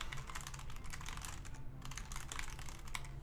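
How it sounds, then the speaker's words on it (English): Rapid, continuous clatter of a computer keyboard as someone types into a search bar, the keystrokes close and crisp with a brief pause midway. "I was typing in the search bar."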